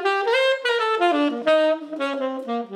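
Saxophone played with a broken reed, giving a buzzy, uneven tone in a short phrase of several sustained notes with wavering pitch, heard alone and close.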